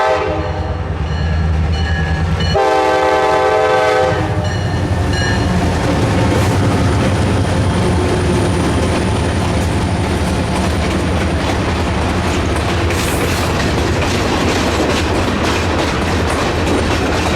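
Trains 252 and 216 speeding through toward the hill at Rogers Crossing in the White Mountains, with a loud, close, sustained roar, a brief blast of the horn early on and steady rumble throughout.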